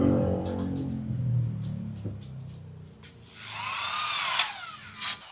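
A Huber HID1355 corded impact drill in hammer mode whirs up close, driving screws into light steel: a low motor hum, then a higher buzzing whine as it bites into the metal, with a couple of sharp bursts near the end.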